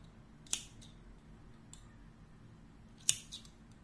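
Scissors cut crochet yarn with two sharp, close snips a few seconds apart, over quiet background hiss.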